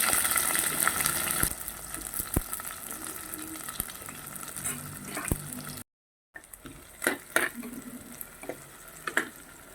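Small onions sauté in a pan for a curry, making a continuous close sizzle broken by clinking stirs and scraping. A brief dropout interrupts it midway before the frying and stirring resume.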